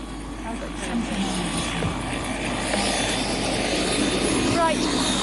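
A helicopter engine runs with a steady, rough whirring drone that builds slightly in loudness, heard under people talking.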